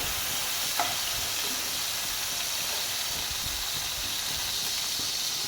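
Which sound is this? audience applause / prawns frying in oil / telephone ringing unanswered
prawns frying in oil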